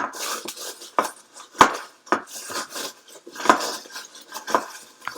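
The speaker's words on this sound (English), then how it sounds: "Then we're just going to give this a nice little stir." A bar spoon stirs a mint julep in a glass packed with crushed ice. Close, sharp metallic clinks and scrapes come in an uneven rhythm, and there is no talking.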